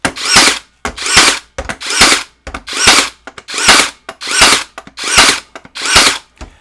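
Prostormer 21V cordless brushless brad nailer driving nails in a steady run of about nine loud, close shots, each a sharp crack with a brief motor whir, spaced roughly two-thirds of a second apart.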